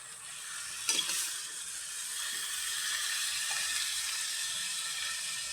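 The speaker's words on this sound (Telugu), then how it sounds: "ఇలా లైట్గా వేగినప్పుడు మనం ఆకుకూర వేసేసుకుందాం." Drumstick leaves (leafy greens) for a curry frying in a pan, a steady bright sizzle that swells after a brief stir-clatter near the start and holds evenly, no talk.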